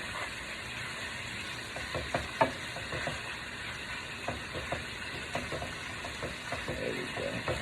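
Chicken searing in a stovetop pan for carbonara, a steady close sizzle and hiss throughout, broken by occasional stirring scrapes and small pops.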